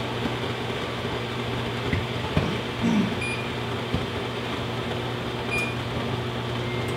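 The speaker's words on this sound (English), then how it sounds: "we're heating a cup of water with the microwave, running at full blast" A microwave oven runs at full power heating a cup of water, giving a steady, quiet hum with a few faint clicks and small knocks around it.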